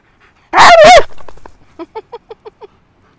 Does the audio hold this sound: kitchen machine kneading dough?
no